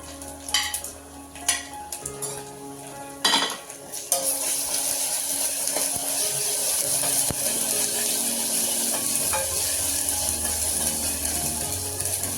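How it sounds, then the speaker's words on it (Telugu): Ginger garlic paste frying in a pan for mutton bone soup, with a spoon clattering against the pot at first, then a steady, loud sizzle that carries on without pause. "చూడండి, ఇలా ఫ్రై అయితే చాలండి. Next ginger garlic paste,"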